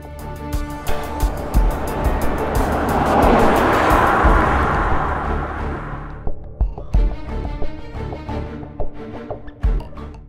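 A 2004 Jaguar XJR with a 4.2-liter supercharged, intercooled 32-valve V8 swells into a loud, rising drive-by rush, then fades to scattered clicks and knocks.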